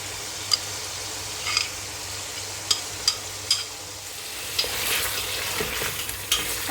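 Blended onion goes into a hot frying pan and is stirred, giving a steady sizzle with scattered spoon clicks and scrapes against the pan, close and without talk.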